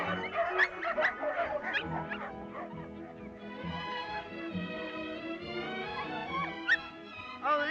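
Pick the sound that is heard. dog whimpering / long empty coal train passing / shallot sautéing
dog whimpering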